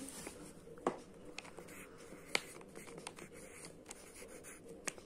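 Pen or pencil writing a short Hindi word by hand on paper: soft, close scratching strokes with small taps, faint and quiet throughout.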